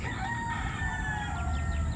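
Birds call and chirp faintly over a steady low outdoor rumble, with short high calls scattered through the background.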